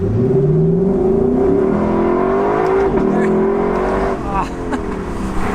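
A 2025 Lexus LC 500 Convertible accelerates hard with its tires spinning, the engine note rising loudly through the gears before easing off near the end, recorded close from inside the car.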